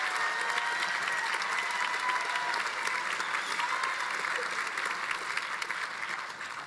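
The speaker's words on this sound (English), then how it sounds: "Let's give them a round of applause." Applause from the audience at Northern Vermont University's Johnson commencement ceremony, a steady, sustained wash of many hands clapping that holds for several seconds and tapers slightly at the end.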